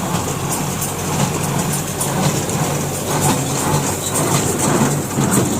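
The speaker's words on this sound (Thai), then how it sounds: "เครื่องอัดฟางคูบูต้า 135จ้ะ" A Kubota 135 hp straw baler pulled by a 50 hp tractor works rice straw in a field during the dry season, giving a steady, loud, continuous engine drone with mechanical rattling and no speech.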